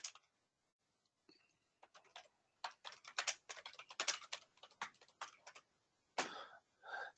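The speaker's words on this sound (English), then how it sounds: "type in the note." Keystrokes on a computer keyboard as a note is typed into practice-management software, quiet clustered bursts of rapid clicks with short pauses between runs, no voices.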